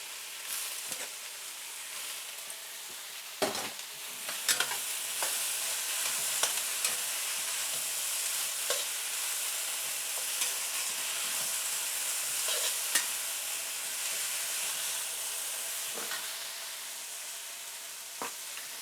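Bean sprouts and prawns stir-fried in a hot wok give a constant loud sizzle, broken by occasional scraping clanks of the utensil against the metal. No one speaks.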